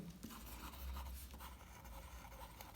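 An oversized Deccan Advocate fountain pen with a number 35 nib writing quickly on paper gives a faint, continuous dry scratching with small rhythmic strokes, heard close with no talking.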